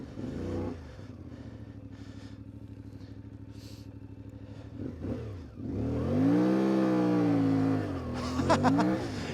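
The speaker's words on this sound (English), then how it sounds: "Just trying a couple of clutch dumps." An Ibex 450 motorcycle with stiffer clutch springs idles with a steady thumping beat, then its engine swells and revs hard through rising and falling pitch as the clutch is dumped, close and loud.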